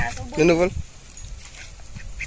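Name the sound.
duck quacking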